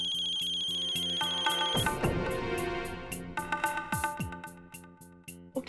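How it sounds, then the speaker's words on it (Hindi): An electronic phone ringtone chimes in a repeating melodic pattern, fairly loud and close, with no one speaking. "उनका फोन है"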